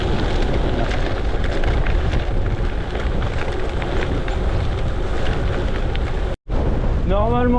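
Strong headwind buffets the microphone while riding a gravel bike, a constant loud roaring rush of wind noise that drops out for a split second near the end.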